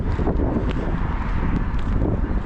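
Gusty wind rumbles and buffets steadily at a New Jersey beach in Belmar ahead of a thunderstorm, loud and broadband with no voices.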